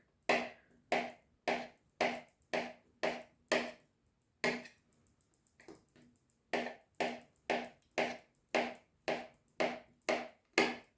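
A knife slices crab sticks at an angle on a cutting board, a steady run of evenly spaced crisp cuts through soft food with a short pause midway, close and clear.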